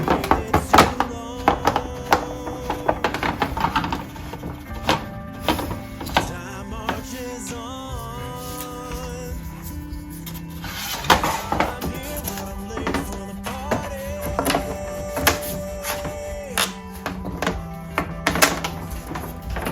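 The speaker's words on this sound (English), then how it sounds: "Fold that down, screw this piece in." Dull thunks and light taps come from assembling a Melissa and Doug kids easel, as pieces are folded down and screwed in. The knocks are irregular and close, with a soft tonal background running throughout.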